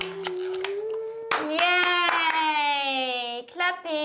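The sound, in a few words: children clapping hands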